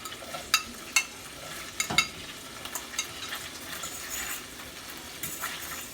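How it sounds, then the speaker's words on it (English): Garlic sizzles in heated butter and olive oil in a pan, a soft continuous sizzle broken by a few sharp clicks and stirring knocks near the start. "My butter and my olive oil is heating up. I'm just going to go in with the garlic."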